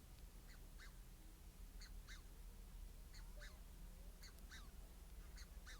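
Egyptian geese and goslings in a London bird park give repeated short honks in paired bursts at a steady pace, moderately distant over constant low outdoor rumble.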